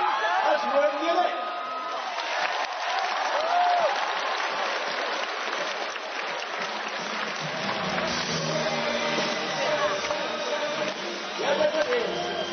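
Audience applause fills a theatre at a 1997 stage musical performance, acknowledging a twenty-plus-piece accompanying band; steady, dense clapping runs throughout while a voice speaks over it.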